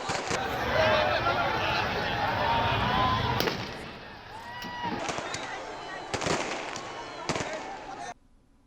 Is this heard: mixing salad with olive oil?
no